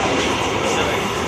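The Malda Court local passenger train runs with a loud, continuous rumble and roar from inside the carriage, steady and unbroken throughout.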